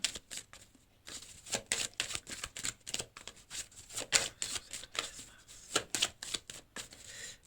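Tarot cards are shuffled and drawn in a steady run of crisp, riffling flutters close by, repeating every half second or so with short pauses, no voices.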